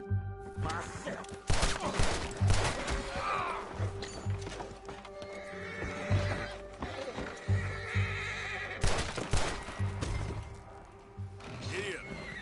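A horse whinnies loudly and close while hooves clip-clop in uneven bursts, with mechanical clanks and rattles mixed in and a voice speaking briefly.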